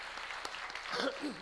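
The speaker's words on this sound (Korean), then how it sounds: "우리 목사님 사모님 박수로 여러분 감사하도록" Church congregation applauding the pastor and his wife during a Sunday worship service, a soft, continuous patter of clapping with a voice speaking over it near the end.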